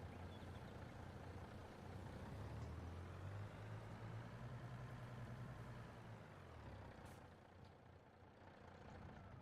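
Truck engine in the farming video game Farming Simulator 22, a steady low idle that rises into a revving drone for a few seconds, then settles back, heard alone.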